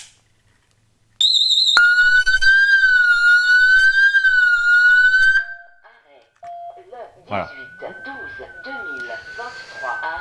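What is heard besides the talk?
wireless alarm system indoor and outdoor sirens sounding after detector tamper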